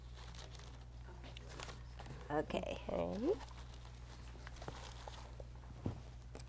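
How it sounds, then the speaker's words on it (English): A small plastic bag crinkles in a couple of brief bursts as items are packed back into it, faint and close, with light shuffling around it and a voice speaking briefly. "let us get everything back in your little plastic bag"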